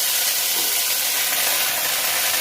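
Ginger paste sizzling in hot oil, a dense, bright, continuous hiss up close with no talking, steady in loudness throughout.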